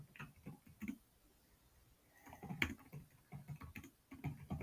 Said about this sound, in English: Sometimes typing is hard.